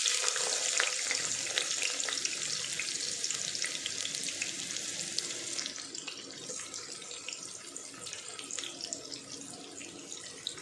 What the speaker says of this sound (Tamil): இதை நல்லா வதக்கிக்கலாம் வெங்காயத்தை